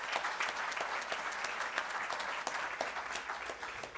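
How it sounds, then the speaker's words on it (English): Sustained audience applause at a 2023 Western Cape matric results awards function honoring the top mathematics candidate, a steady dense patter of many hands clapping with no talk over it. "that deserves a round of applause"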